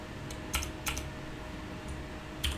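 Computer keyboard keys pressed during Space Engineers play, a few soft, quick clicks spread over a couple of seconds, faint and close, against a low steady hum.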